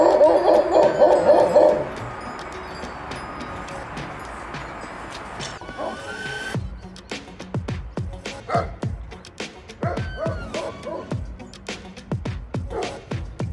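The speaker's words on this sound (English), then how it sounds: "Get your bark in, girl." A Great Pyrenees barks outdoors during a morning walk, giving a loose series of deep barks in the second half after a louder opening of mixed noise, with faint voices now and then.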